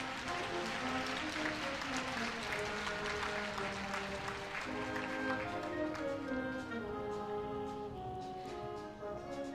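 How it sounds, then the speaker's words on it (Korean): An audience at the Korea University 2018 freshman entrance ceremony applauds in a large hall: a continuous wash of clapping over loud music with sustained tones, evenly loud throughout. "다시 한번 큰 박수 부탁드립니다"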